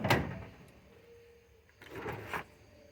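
Drawers on a Husky 27-inch tool chest and drawer combo in a garage, a sharp slide and thump at the start, then a second longer rolling slide and clack a couple of seconds later, close by.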